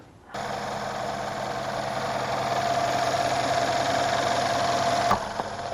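A Mercedes-Benz E550 twin-turbo V8 starts up and idles steadily after a thermostat replacement, a close, even engine drone with a faint whine that rises slightly, ending with a brief click.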